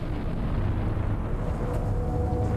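Deep, continuous rumbling roar from the explosive eruption of the Mount Toba supervolcano as a vast mass of magma bursts out, steady and loud throughout with no voices.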